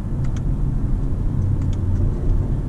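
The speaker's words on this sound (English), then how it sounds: "you can actually use downshift, downshift, and it'll help slow down the car" A car engine rumbles low and steady from inside the vehicle while downshifting with paddle shifters for engine braking, a muffled drone with slight shifts in pitch and no talking.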